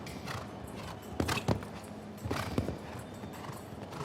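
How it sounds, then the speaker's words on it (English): Horse hooves on an arena surface during a show jumping round at a Super Grand Prix, a rhythmic canter of dull thuds with occasional louder strikes, clear and close. "Now it's the turn of Peter de Vos and the horse he rode to gold at those Europeans, Claire Z."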